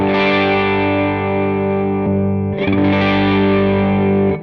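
Sustained distorted electric guitar chord through a Line 6 Helix amp modeler, thick and loud, fading slightly before a second chord is struck and rings out.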